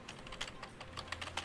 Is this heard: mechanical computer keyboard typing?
yes